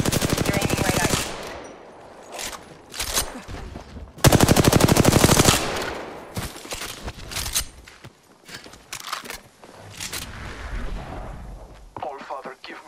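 Automatic weapon fire in the Apex Legends battle royale shooter, rapid bursts repeating in several stretches with one long loud volley midway, mixed with in-game voice callouts and footstep-like clatter.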